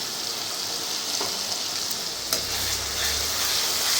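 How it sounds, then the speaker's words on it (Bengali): Onion paste and spices fry in a pan ahead of the chicken, with a continuous close sizzle, occasional stirring knocks and a low bubbling rumble that rises toward the end, with no talking. "একটু কষুক মশলাটা"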